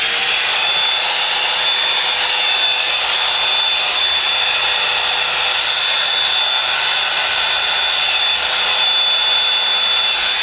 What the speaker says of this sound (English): I'm gonna blow dry this part just to have it as smooth as possible